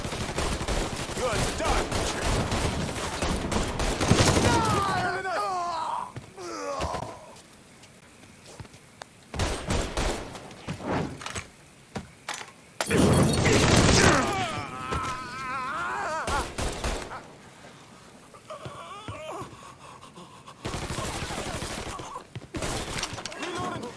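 Gunfire in a Mafia III shootout, with bursts of automatic fire and sharp shots in loud clusters, broken by quieter gaps, with shouted voices and groans among the shots.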